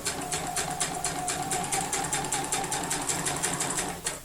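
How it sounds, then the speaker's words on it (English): A sewing machine stitches quilt pieces together in a fast, even run of rapid needle strokes, loud and close, with no talking over it. "I'm just going to put this right sides together and sew down."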